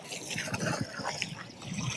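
Water being filled at a house under construction, a gentle trickling, gurgling flow running steadily for two seconds, close but fairly quiet, with faint background sounds.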